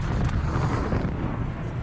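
A rock-blasting charge goes off in a mine, a sustained heavy low rumble with roaring broadband noise that fills the whole stretch without a break, loud and close.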